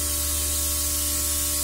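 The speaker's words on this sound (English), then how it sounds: "So you just really want to spray it around your face, wait till it dries, and then you can put on another coat." A Luminess airbrush system sprays makeup foundation in a steady, close hiss with a constant compressor hum underneath, unbroken for under two seconds.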